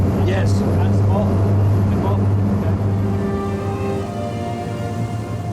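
RAF high speed launch with modern diesel engines running at speed on the plane, a loud steady engine drone with a low hum under wind and water rush, with a voice talking over it.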